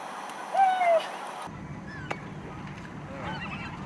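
A seagull calls outdoors with short, nasal, honking cries, one clearer call followed by fainter ones at a moderate distance.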